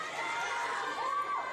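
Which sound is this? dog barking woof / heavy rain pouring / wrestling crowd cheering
wrestling crowd cheering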